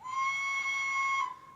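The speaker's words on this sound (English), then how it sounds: "Short screech." A short screech whistle blast from a Hornby A1 Tornado DCC sound model steam locomotive, one shrill steady tone lasting just over a second before cutting off, close and clear with no talking.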